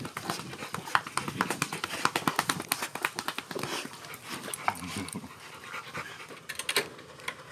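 Several dogs panting rapidly and steadily up close, with quick rhythmic breaths, a few soft whimpers and some movement throughout, with no talking.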